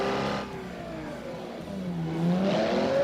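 Simulated car engine revving in the BeamNG driving game, a rising and falling whine with sweeping pitch that climbs toward the end, steady and fairly loud with no talk.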